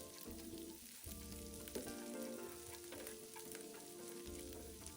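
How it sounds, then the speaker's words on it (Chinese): Chopped dried shrimp fry in scallion oil over medium-low heat, a steady close sizzle with light stirring scrapes throughout and no voices. "油爆至虾米溢出香气"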